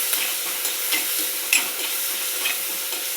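Crushed ginger and garlic frying in a pan, a dense steady sizzle with a few light stirring ticks, close and uninterrupted, with no voices.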